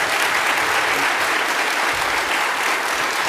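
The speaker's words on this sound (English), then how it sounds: "Give them a round of applause." Steady, dense applause from an audience at a United Conservative Party of Alberta leadership debate, many hands clapping evenly for a few seconds with no talking over it.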